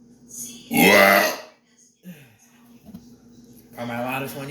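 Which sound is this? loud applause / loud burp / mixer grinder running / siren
loud burp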